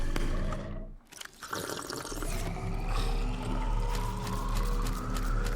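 Drinking water in the video game Subnautica: Below Zero, a loud liquid gulping and splashing effect with a brief dip near the start, then steady watery sound with a faint mechanical hum beneath, no speech.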